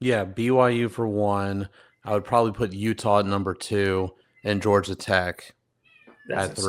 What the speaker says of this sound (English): Whose cat's freaking out?